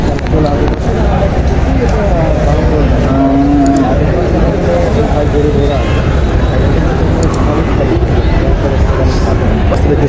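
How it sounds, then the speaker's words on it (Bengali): Indian bullocks and other cattle at the Notunhat livestock market in Joypurhat moo in low, drawn-out calls amid a loud, constant crowd hubbub and nearby talking. "এই যে গরুগুলি দেখা যাচ্ছে"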